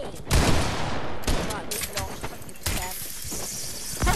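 Bursts of rapid gunfire from a multiplayer shooter game crackle in repeated volleys, with players talking excitedly over the shots.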